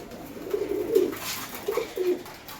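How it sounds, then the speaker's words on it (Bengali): Racing pigeons coo softly in a few short, low, throaty bursts, close and quiet against faint background noise. "এই হচ্ছে আমার বিডার পায়রা"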